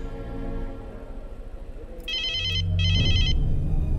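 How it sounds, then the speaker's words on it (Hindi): A phone rings at a home with two short bursts of electronic ringtone, loud and close, over a low background hum and rumble. "माँ मालिक का फोन है"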